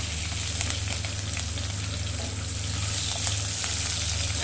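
Curry leaves frying in hot oil for tempering a tomato-pepper rasam, giving a steady close sizzle that runs throughout with no talk.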